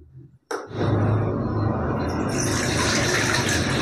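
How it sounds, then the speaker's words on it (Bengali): Milk poured into a wok while making kheer-style sweet yoghurt; after a brief quiet moment a steady, loud liquid pouring and splashing begins and continues without pause, with no talking. "এবারে আমি দুধটাকে কড়ায় ঢালবো।"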